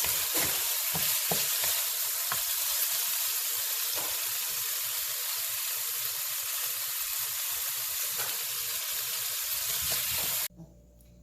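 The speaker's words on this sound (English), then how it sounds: "Stir-fried bittermelon with Chinese eggplant and bacon." Bittermelon, Chinese eggplant and bacon stir-fry in a hot pan with a dense, steady hissing sizzle and a few light utensil taps, ending abruptly near the close.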